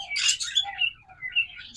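Red-eyed, red-headed opaline pet birds give a few quick, high chirps and tweets close by in under two seconds, with no talking.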